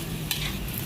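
Chicken with tomatoes simmers and fries in a pan, giving a brief, steady bubbling sizzle close up with one small scrape of stirring, and no voices.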